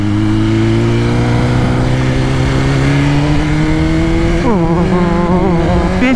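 A car engine revs up loud and close under hard acceleration with the tyre spinning, pitch rising steadily and then jumping through a quick gear change.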